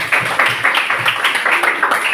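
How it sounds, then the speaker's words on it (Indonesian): A classroom of students clapping together in a short burst of applause, a steady crackle of many hands with rhythmic swells, fairly loud and close, with no talking over it. "Oke, tepuk tangan sama."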